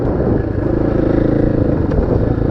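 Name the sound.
motorcycle being ridden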